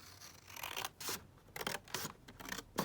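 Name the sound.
scissors trimming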